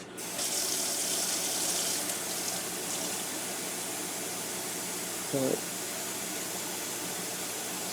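Cold tap water gushes into a plastic squeeze bottle holding tie-dye powder, a steady hissing rush from start to finish with a brief hollow knock midway.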